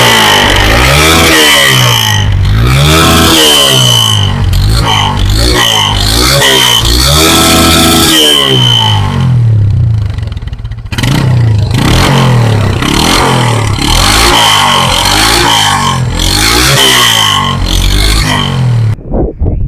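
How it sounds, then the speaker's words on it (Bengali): A used Bajaj Discover 135 motorcycle in super fresh condition idles and is revved repeatedly, loud and close, with rising and falling engine sweeps, a brief drop near the middle, then more throttle blips. "চলুন এই বাইকটি সাউন্ডটা আপনাদেরকে শোনাবো"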